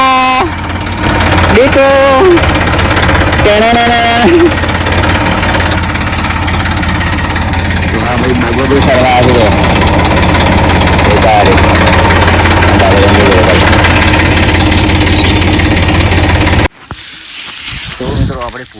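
A tractor engine runs steadily on a farm during the summer bajra (pearl millet) harvest, its low rumbling drone continuing under nearby talk before cutting off sharply near the end.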